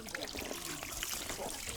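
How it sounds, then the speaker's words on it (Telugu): Hands are washed outdoors under cool spring water, with a close, steady trickle and splash of running water and faint voices in the background. "మన చేతులు అయితే చక్కగా కడుక్కోవాలన్నమాట నీట్గా ఇప్పుడైతే కడుక్కుందాం"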